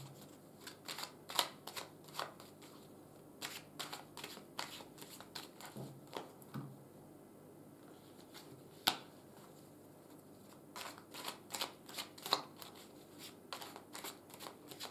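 Tarot cards being shuffled during a card reading, a run of crisp riffling flicks and soft slaps in irregular bursts, close and fairly quiet, with no talking.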